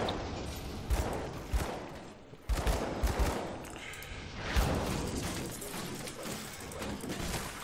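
Flashbang grenades going off during combat in the action role-playing game Grim Dawn, several sharp bursts in quick succession over a busy layer of fighting effects.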